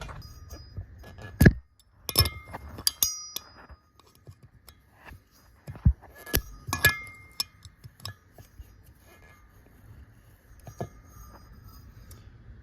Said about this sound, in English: just use that to get those valve keepers out of there, so that way they don't get lost